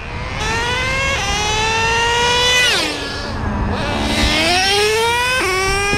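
A Traxxas Revo John Deere Edition RC truck with a 2-speed transmission runs with a loud, buzzing nitro engine whine that revs up, dips, and climbs again through gear changes, close by and continuous.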